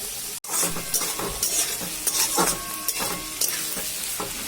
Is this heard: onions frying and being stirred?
yes